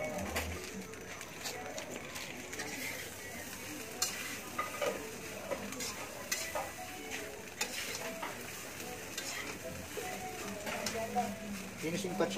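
Fried rice (sinangag) being stirred in a pan, with a steady soft sizzle, a spatula scraping and clinking against the metal, and a voice speaking over the cooking at moderate distance.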